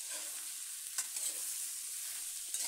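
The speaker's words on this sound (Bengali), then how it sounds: "লবণ হলুদ দিয়ে মূলা আলু মিশিয়ে নিচ্ছি।" Radish and potato pieces frying with salt and turmeric are stirred in a pan, giving a soft continuous sizzle with a few faint scraping taps, quiet and without voices.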